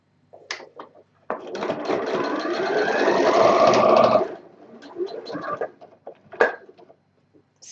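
A sewing machine stitching a patch pocket runs in one steady burst of about three seconds, close and clear, with short handling clicks and brief speech before and after.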